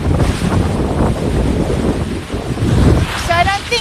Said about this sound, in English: we're getting more wind, and we're getting a little more wave action too